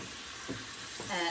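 Three pounds of ground beef browning in a pan, a soft steady sizzle with a few brief stirring scrapes, faint and close.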